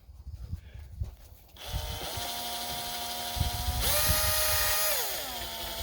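A Lee hand loader cutter turns against the mouth of a 45-70 brass cartridge case, giving a steady grinding whir that starts partway in, rises louder with a higher tone near the end, then eases down.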